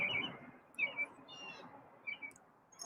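Pet bird singing indoors, with bright chirps and short trilled phrases coming in bursts over a faint room background.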